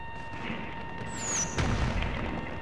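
An explosion in GTA Online during a raid on the FIB building: a low booming blast lands after a brief rising whine, over steady background game noise.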